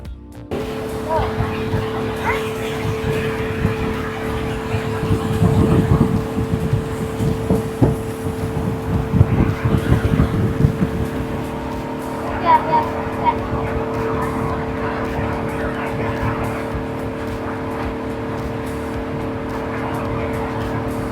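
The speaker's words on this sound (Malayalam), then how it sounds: "ഞങ്ങളെ കൂട്ടാനുള്ള ബോട്ട് വരുന്നുണ്ട് കേട്ടോ." A speedboat comes across a Kerala backwater beside the Udumbunthala mangroves. Its engine drone holds steady and loud throughout, swelling midway, while people talk nearby.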